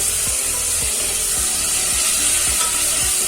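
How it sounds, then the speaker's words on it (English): Ginger garlic paste frying in a pan for mutton marag, a steady close sizzle with repeated soft stirring scrapes at a regular rhythm, and no voices. "Add ginger garlic paste. And cook till it turns brown."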